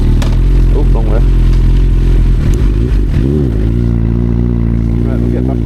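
A Honda CB1000R motorcycle that had a hot-start fault, fixed with a rectifier, runs loud and close with a steady engine drone and small rises in revs, a voice talking over it.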